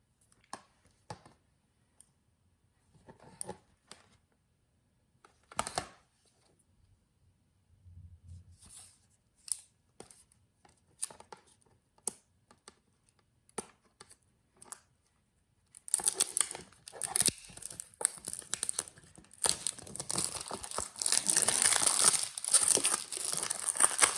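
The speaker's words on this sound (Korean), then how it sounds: "이번에는 윈도우 2000 서버 한글판 RC2 버전의 비닐을 뜯어보겠습니다" Plastic shrink wrap is torn off a boxed Windows 2000 Server Korean RC2 package, with faint scattered crinkles at first, then a sustained, loud stretch of dense crackling and ripping close to the mic.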